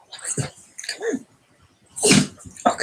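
A single sharp sneeze bursts out near the end, amid a person coaxing someone to come up and sit, with speech before and around it.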